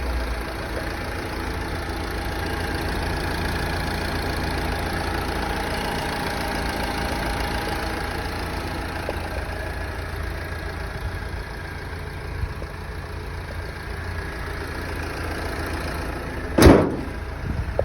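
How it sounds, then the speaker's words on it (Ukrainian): A Renault Megane 2.0 diesel engine idles with a steady, low hum, quiet and constant, with a brief sharp knock or thump near the end. "Два дизель 150 коней на таких обвісах. Цікавий апарат. А моторчик шепче."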